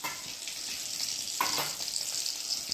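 Sweet potato gulab jamun frying in hot oil, a steady close bubbling sizzle with a brief louder spatter partway through, no talk.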